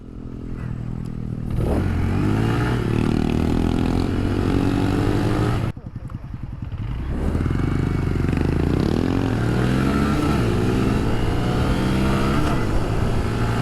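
Motorcycle engine revving and pulling hard while riding, rising and falling in pitch through gear changes with a brief dip midway, loud and close throughout.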